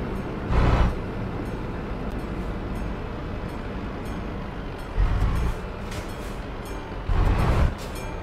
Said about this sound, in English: let's see what sort of train is going to go past us. Probably a freight train.